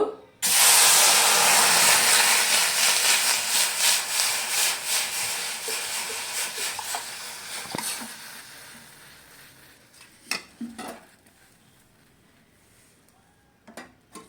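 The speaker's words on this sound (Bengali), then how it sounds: "এবার কড়াইতে আমি পরিমাণ মতো জল দেব।" Water poured into a wok while cooking dal: a loud, rushing hiss and splash that lasts several seconds and gradually fades, followed by a few quieter clanks and knocks.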